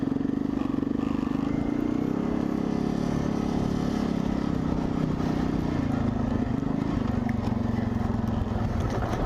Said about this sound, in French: J'espère que le bruit du quad va pas trop couvrir ma voix.